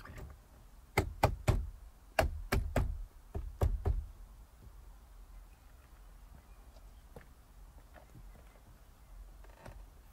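A Chevrolet Corvette C5 door trim panel is pressed into place by hand, giving two close bursts of sharp knocking clicks and thumps, then a quiet stretch with a few faint taps.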